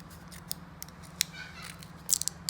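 Scissors cutting through material while prepping dirt bike rims for Plasti Dip or spray paint, a few quiet, sharp snips spaced irregularly, with a small cluster near the end.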